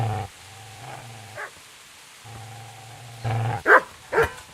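A dog in the medieval video game Kingdom Come Deliverance barks and yips in a few short, separated bursts over a low droning background. Between the barks there are quieter whimpering sounds, and the last barks are the loudest.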